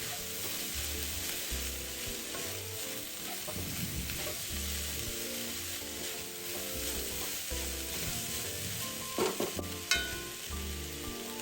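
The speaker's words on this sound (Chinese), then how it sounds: "一起拌炒均匀。" Finely sliced garlic sprouts and deep-fried dried tofu are stir-fried together in a wok for a chai kueh filling. A continuous close sizzle runs under rhythmic stirring, with a few sharper utensil scrapes near the end.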